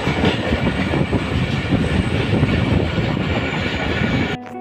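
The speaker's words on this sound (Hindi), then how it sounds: "अच्छी स्पीड के साथ 151। अब शाह लतीफ एक्सप्रेस" The Shah Latif Express passenger train running at speed near Karachi, a loud continuous roar of wheels and carriages rattling close by, easing slightly just before the end.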